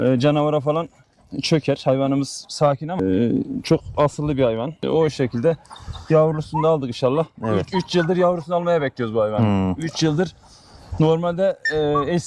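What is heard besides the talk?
No everyday noise stands out behind the speech.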